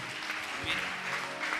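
A church congregation at a revival meeting claps together in sustained, dense applause, a steady wash of many hands close around with no break.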